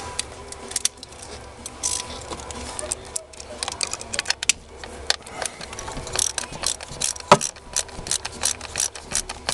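Ratchet clicking as an ignition coil bolt is torqued down on a Ford 5.4 V8 engine, with fast repeated pawl clicks in bursts up close, mixed with metallic clinks and a person talking.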